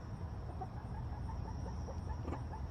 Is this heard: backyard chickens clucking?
yes